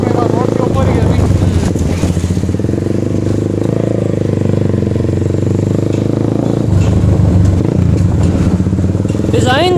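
A Super Star 200 motorcycle engine drones loudly and steadily during a ride through traffic, with the rider talking over the constant engine and road noise.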